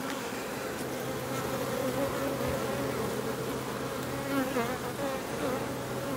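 Honey bees buzz in a dense, steady drone while a hive is opened and split into new colonies, the hum continuous and close throughout.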